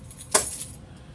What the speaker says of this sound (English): Let me move my keys out the way.